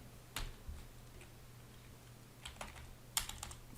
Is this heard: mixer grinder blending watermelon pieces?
no